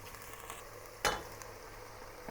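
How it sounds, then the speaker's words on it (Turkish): Quiet, steady sizzling of onions frying with beef cubes in a pot, with a brief louder scrape or stir in the middle. "Artık bu aşamada etimizin üzerine soğanlarını ilave edebiliriz. Biraz da soğanlarımıza kavrulsun."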